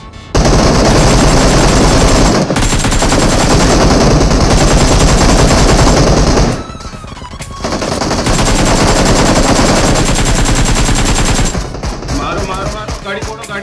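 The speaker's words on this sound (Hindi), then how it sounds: "सामने बस से कोई गोलियां चला रहा है" Rapid, loud bursts of automatic gunfire rattle almost nonstop, pausing briefly a couple of times before resuming, with scattered shots and clatter near the end.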